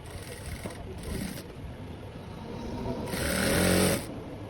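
A sewing machine runs in short stitching bursts while the two sides of a sleeve are sewn together, a close whirring hum rising and falling, with a voice briefly alongside.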